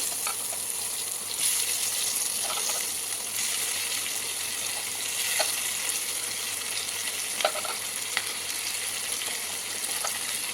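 Chopped onions frying in a pan for onion paratha, a steady close sizzle throughout with a few faint scraping and stirring clicks, no voices.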